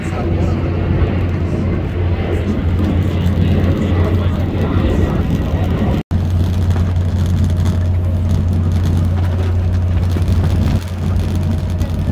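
A fixed-wing airplane passes overhead near Boston's airport, a loud steady engine roar that fills the whole stretch, cutting out for an instant midway before resuming, with people talking nearby.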